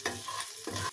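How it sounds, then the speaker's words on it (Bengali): Shrimp and chicken fry in a pan while being stirred, giving a steady sizzle broken by two scraping stirs, close and fairly quiet, with no voices. "এখন চিংড়ি মাছটা একটু ভেজে নিচ্ছি।"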